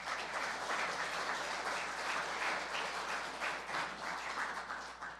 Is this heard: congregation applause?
yes